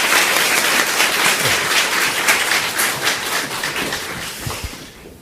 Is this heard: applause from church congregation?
yes